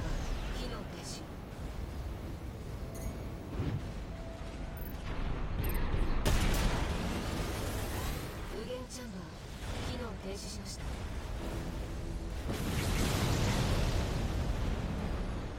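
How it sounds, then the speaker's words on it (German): Explosions and weapon fire from the mech combat game Armored Core VI, a dense rumbling barrage of blasts and bursts swelling in waves, with a person talking over much of it. "die Explosionen sind schon richtig sick"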